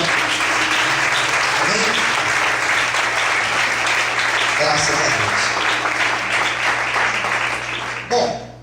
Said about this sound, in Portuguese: Quantos podem aplaudir ao Senhor com muita alegria?